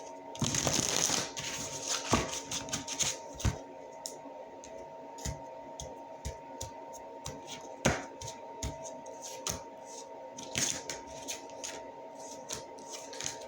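Advice cards being shuffled for a tarot-style reading, a loud riffle at the start followed by scattered soft card flicks, taps and clicks, close and intimate, no speech.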